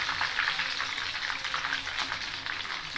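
Vegetarian pieces fry in hot oil, giving a steady dense sizzle with crackling pops that stays close and even throughout, with no talking.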